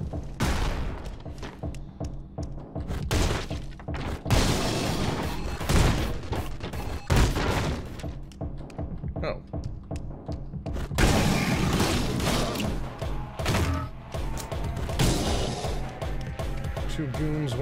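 In the video game Anger Foot, bursts of gunfire and heavy thuds crash out loudly between stretches of someone talking, with several sharp shots clustered together.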